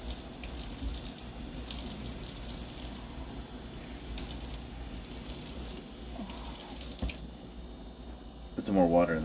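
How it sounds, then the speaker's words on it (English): Water runs from a tap and pours over sprouting seeds in a cup with holes, a continuous close splashing and trickling flow with drips, while a person talks over it. "Put some more water in there so we can get all the seeds out of this cup."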